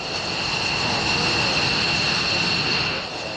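An Air National Guard fighter jet takes off from Otis Air Force Base on Cape Cod, its engine a loud, steady roar with a high whine held throughout before easing slightly at the end.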